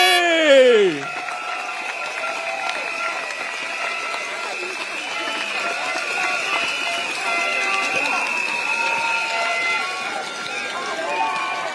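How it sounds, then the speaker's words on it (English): Large outdoor crowd at a PAP political rally for East Coast GRC in Singapore, cheering and applauding steadily throughout after a brief opening shout, a dense continuous roar of many voices and hands. "A round of applause for the candidate of East Coast GRC"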